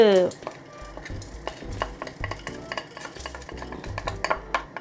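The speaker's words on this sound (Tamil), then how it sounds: "உளுந்தையும் நல்ல ப்ரௌனாக வர வரைக்கும் வறுக்கலாம்." Urad dal being dry-roasted in a pan until brown, with repeated scraping and stirring strokes of a spoon against metal, dry rattling grains and occasional clinks, close and steady with no talking.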